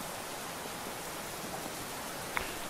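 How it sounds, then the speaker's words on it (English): Steady rain falls in the Dragon Fist Kung Fu VR game, an even, soft hiss throughout with one small click near the end and no voices. "Lots of rain in Thailand, I guess."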